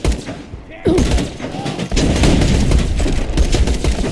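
Loud, chaotic shotgun blasts in Borderlands 2, heavy thumping reports piling up in a dense, busy firefight.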